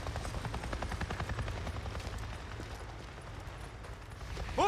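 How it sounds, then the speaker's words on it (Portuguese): A NERO helicopter in Days Gone chops steadily overhead, its rotor beating in an even rhythm at moderate, somewhat distant volume with no talk over it, then swelling louder at the very end. "Eu acabei de ver um helicóptero, caralho!"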